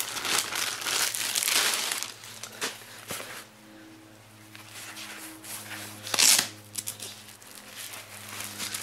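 Thin protective plastic wrapping around a Canon 600EX-RT Speedlite flash head is crinkled close up in bursts, loud crackly rustles at the start and a sharp flurry later, with quieter gaps between.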